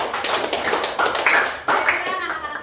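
Students in a classroom clap their hands in a short burst of uneven, closely spaced claps, fairly near and loud, with voices mixed in.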